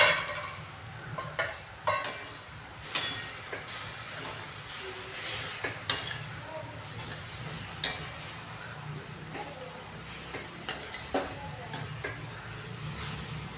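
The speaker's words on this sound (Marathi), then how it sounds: "आता हे शिजत आलेलं आहे आणि याला पुन्हा मिक्स करून घेत आहे" Cabbage cooking in a pot is stirred with a spoon, giving repeated scraping clinks over a soft steady sizzle, moderately close and without speech.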